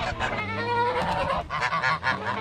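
A flock of geese on a Portuguese farm honking loudly and continuously nearby, overlapping nasal calls with no pauses.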